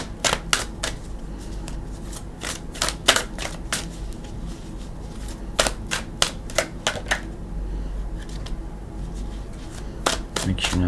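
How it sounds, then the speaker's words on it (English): Tarot cards are shuffled repeatedly, with quick riffling bursts and sharp flutters in an irregular rhythm, close by, over a soft background hum. "Let's go ahead and shuffle."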